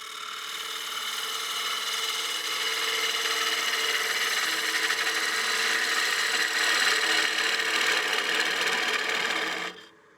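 A lathe gouge cutting a partially seasoned wooden bowl on a woodturning lathe gives a steady, close, hissing scrape with a constant hum for about ten seconds before stopping abruptly, with no talking.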